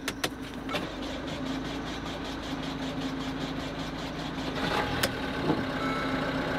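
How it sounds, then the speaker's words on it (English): A car bought at a UK salvage auction cranks and its engine catches, then runs at a steady idle with a low hum, plus a few sharp clicks and beeps near the start and again around the five-second mark. "We have got engine start."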